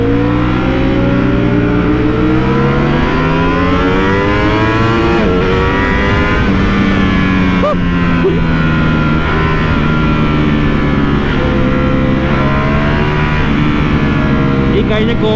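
A Ducati Panigale V4 S superbike engine is held at full throttle on an open road, a loud, close, sustained roar climbing in pitch through the gears with wind rush behind it.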